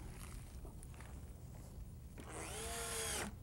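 A power driver runs screws into a wooden cradle board for a homemade telescope, with a rising mechanical whine for about a second near the end after quiet shuffling and handling sounds.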